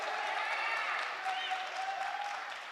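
An audience at a live-streamed panel event bursts into sustained applause, many hands clapping in a dense, steady wash with a voice briefly audible over it.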